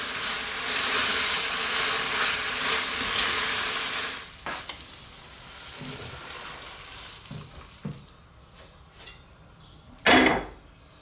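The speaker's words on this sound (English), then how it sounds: "So I'm going to throw this around in the pan now just to get the sauce all over the pasta there." Creamy tuna tomato spaghetti sizzles steadily in a pan for several seconds, then the sizzle drops away and a few sharp clinks and knocks follow as the pasta is tossed to coat it in sauce.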